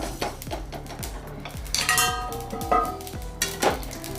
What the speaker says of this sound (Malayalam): ഉലുവ പൊട്ടാൻ തുടങ്ങി നമുക്ക് കടുക് ചേർത്ത് കൊടുക്കാം